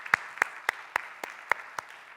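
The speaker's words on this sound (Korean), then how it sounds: "우리 좋으신 하나님께 박수로 영광 돌리도록 하겠습니다." Clapping at a Korean church youth worship service: seven sharp, evenly spaced claps in a steady beat, fairly faint and with nothing else over them.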